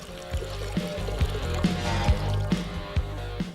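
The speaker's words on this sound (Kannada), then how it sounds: "ಇದಕ್ಕೆ ಇನ್ನೊಂಚೂರು ನೀರು ಹಾಕೋಣ." Water poured into a pot of boiling sweet corn soup, giving a close, continuous pour and trickle with bubbling and a series of regular soft thuds and splashes, with no voices.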